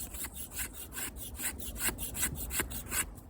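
An Opinel No. 8 knife with its factory edge shaves feathers off a wooden stick in a run of about ten scraping strokes, each a short, close, rasping rub against the wood, with no voices.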